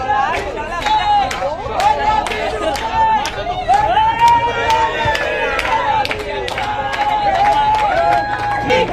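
Crowd in a public square cheering and clapping as a freed hostage arrives during the Israel-Hamas ceasefire, a lively mix of shouts, whistles and sharp claps with excited voices throughout, near and loud.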